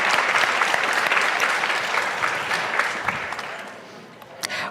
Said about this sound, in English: so yes, clap